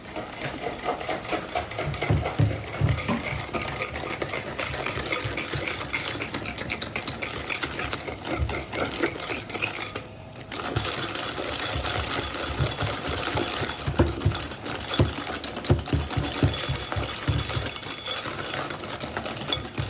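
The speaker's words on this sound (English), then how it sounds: "And keep mixing and mixing and mixing." Egg yolks and sugar being beaten in a bowl on a folded tea towel for eggnog, a steady continuous mechanical whir with rhythmic scraping that runs throughout, close and fairly loud, with a brief dip near the middle.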